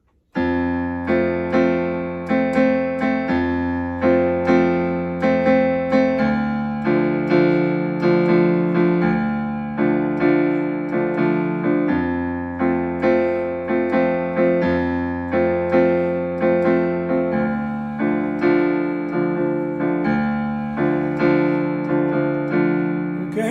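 Piano intro to a song, deep held bass notes under steady repeated chords in a measured rhythm that cycles through several changes, played clearly and close without talking.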